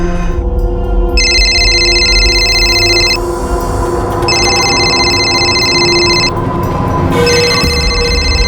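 A phone ringtone rings in three repeated bursts with short gaps, loud and close, over a low background hum.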